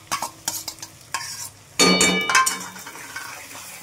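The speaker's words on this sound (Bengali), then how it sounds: "মশলাগুলো কষাচ্ছে" Ground spice paste of cumin, coriander, ginger-garlic and chilli being sautéed for mutton keema ghugni: a spatula scrapes and clinks against the pan in quick strokes, then a louder burst of sizzling stirring takes over, close and without talk.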